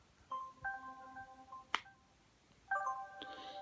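A Pantech Jest flip phone plays short electronic tone chimes as it is opened and closed, two clean melodic tone bursts separated by a sharp snap of the hinge, heard close and alone in a quiet room.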